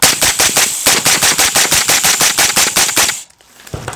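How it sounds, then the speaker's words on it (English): Suppressed AR rifle in a lightweight recce build, fired in rapid fire: a loud, close, evenly spaced string of roughly seventeen sharp reports over three seconds, then a quieter pause with no talk. "We'll do kind of a rapid fire"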